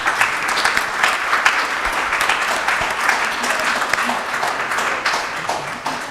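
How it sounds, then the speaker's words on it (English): A crowd at a town council candidate forum gives sustained applause, dense and even clapping filling the room from start to finish with some voices mixed in. "a big round of applause for the candidates again"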